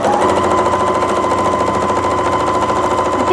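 A drop-in bobbin sewing machine stitches fabric with a steady, loud, fast rhythmic chatter that runs continuously throughout.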